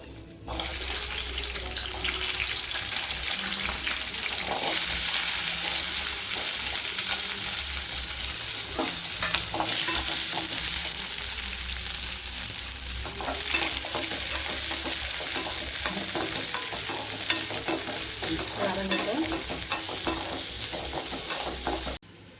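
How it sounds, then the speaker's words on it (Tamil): Garlic, ginger, shallots and large onions sautéing in a pan for tomato chutney, a steady dense sizzle with stirring scrapes running throughout with no talking. "4-5 பல்லு பூண்டு, ஒரு துண்டு இஞ்சி, சின்ன வெங்காயமும் பெரிய வெங்காயமும் எடுத்துருக்கேன். நம்ம இது வதக்கிக்கலாம்."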